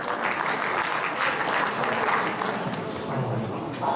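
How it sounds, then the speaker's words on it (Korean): Audience applause welcoming a lecturer to a coaches' and referees' training seminar, a dense steady clapping from a full room that holds for the whole stretch at an even, fairly loud level. "박수로 맞이해 주시기 바랍니다"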